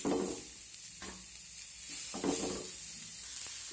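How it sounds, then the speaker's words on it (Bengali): Brinjal slices fry in refined oil in a frying pan, making a soft, steady sizzle with occasional louder spatters and stirring touches, fairly quiet and without speech. "বেগুনগুলো আমি ফ্রাই প্যানে বসিয়ে দেবো।"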